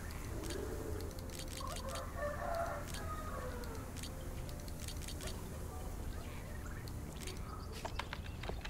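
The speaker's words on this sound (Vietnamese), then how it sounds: "À nó tỉnh rồi đấy, con gà cũng tỉnh rồi đấy." Chickens cluck and crow in the dinosaur survival video game Pix ARK, a string of short clucks and calls over a busy game background hum, with what sounds like a voice murmuring faintly underneath.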